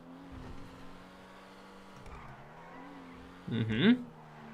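A sports-class car engine in GTA Online hums at low idle with a couple of gentle revs, then a short louder burst of revving with tire squeal near the end, while someone talks over it.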